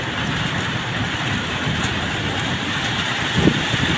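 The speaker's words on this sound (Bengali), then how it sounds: "প্রচুর বৃষ্টি হচ্ছে, এই বাতাস হচ্ছে প্রচুর।" Heavy rain with strong wind, a dense, loud, steady wash of noise outdoors with a brief rumble near the end and no talking.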